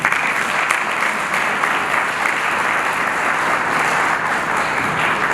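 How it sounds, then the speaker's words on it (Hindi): Audience applause at an Arya Samaj Ram festival gathering in Agra, a steady dense roar of many hands clapping, loud and continuous throughout. "तालियां तो बहुत तेज बनती है ना।"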